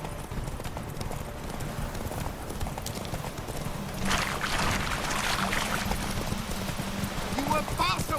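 Horse hooves clip-clop steadily in The Witcher 3 video game, a continuous trotting rhythm over ambient game sound with voices talking, the hoofbeats growing brisker midway.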